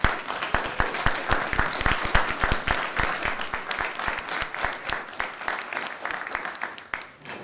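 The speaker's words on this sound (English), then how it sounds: "Let's give them a round of applause." Town council meeting audience applauds after a color guard presents the colors, many hands clapping in a crisp, continuous patter with individual sharp claps standing out, sustained throughout.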